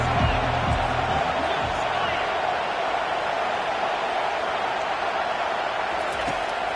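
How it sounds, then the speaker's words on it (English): A large stadium crowd at a Texas A&M vs LSU American football game produces a constant, dense roar, with a voice heard briefly beneath it at the start. "This crowd bringing the energy and noise early."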